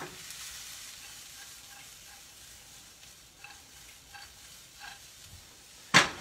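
Onion, crushed red pepper and garlic fry quietly in a pan with a soft, even hiss and a few light stirring taps. A sharp clink of a utensil lands at the very end.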